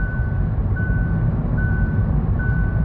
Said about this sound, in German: Okay, piepst jetzt.